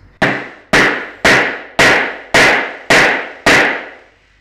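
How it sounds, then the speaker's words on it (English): A hammer strikes an eyelet-setting tool, pressing a metal eyelet onto fabric while a dress is made. Seven sharp, loud, evenly spaced blows ring out alone, each decaying quickly. "I'm going to stick the fat end in there and hit it with a hammer."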